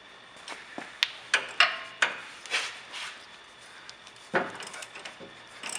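Metal clinks and taps of a 19mm wrench and 18mm socket working on a vehicle's sway bar end links, a series of sharp close knocks and ratchety rattles spaced over a few seconds, fairly quiet.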